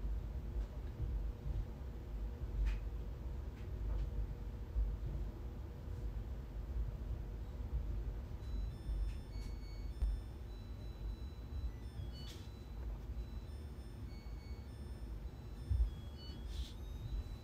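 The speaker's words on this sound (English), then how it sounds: "that is the sound of a Samsung dryer." A Samsung clothes dryer runs steadily with a constant low rumbling hum and broadband whir, faint ticks and clicks appearing now and then over the continuous drone, with no talking.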